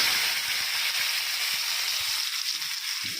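Mustard seeds and tomato sizzle in hot oil for a tomato and star fruit chutney, a constant bright hiss with light crackles and a few soft stirring knocks, close and alone.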